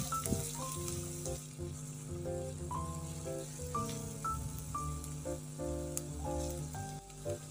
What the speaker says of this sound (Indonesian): ini baru kita masukkan bawang bombay yang kita sudah chop kasar. Ini akan kita tumis nanti sampai sedikit layu